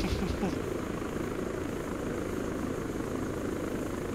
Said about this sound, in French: Vous êtes dans un hélicoptère civil.